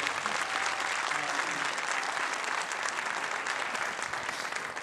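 Audience applause fills the hall at a Turkish folk music concert, a dense, steady wash of clapping that holds at even loudness for the full stretch, with faint traces of a voice underneath.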